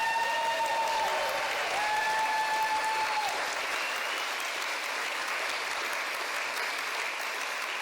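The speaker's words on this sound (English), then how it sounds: "So an applause for the men too" Sustained audience applause in a parliamentary hall, a steady, dense roar of many hands clapping with a few whistles or cheers early on, continuing evenly to the end.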